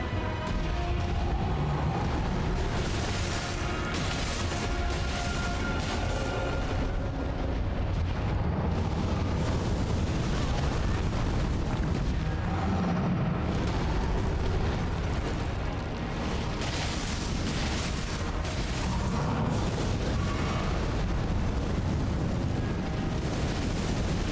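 A roaring, crackling fire rumbles steadily and loudly in Elden Ring during a Fire Giant fight, a dense continuous blaze with bursts and booming swells throughout.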